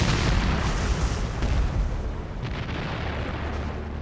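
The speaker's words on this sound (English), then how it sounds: "there was an explosion" A World War II demolition explosion at the Remagen bridge, heard as a loud, sustained rumbling blast with heavy low-end roar and debris crackle that decays slowly over several seconds, with no voices.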